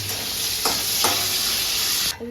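Prawns fry in hot oil with a continuous close sizzle, with a couple of faint utensil taps partway through, before the sizzle cuts off abruptly at the end.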